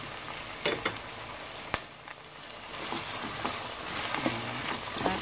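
Frying chicken curry in a pan as potatoes are added and stirred in, giving a steady sizzle with scraping, clattering stir strokes and brief knocks throughout.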